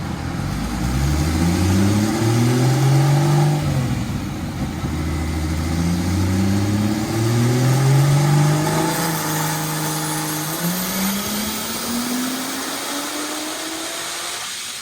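A Nissan 240SX engine revs hard on a dyno, climbing through repeated gear pulls as the pitch rises and drops, then a long high-rpm wail before winding down; loud and close, with no voices.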